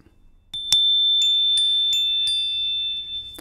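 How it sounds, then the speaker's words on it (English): A high bell bar synth voice from a MegaMagic patch rings out in a run of about six crisp, glassy strikes, the first one loudest, with sustained tones that linger and overlap before slowly fading, and no voices present. "High bell bar is this guy right here."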